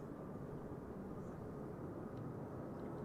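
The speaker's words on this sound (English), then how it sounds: "You can already hear him spooling up." Aircraft engines spooling up at Brussels Airport make a faint, distant, steady low rumble that holds even throughout with no clear rise.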